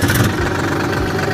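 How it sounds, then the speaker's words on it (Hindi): An old tractor engine runs at idle, a loud, close, steady rumble with a rough mechanical rattle and no voices. "देखिए ट्रैक्टर चालू हो गया है।"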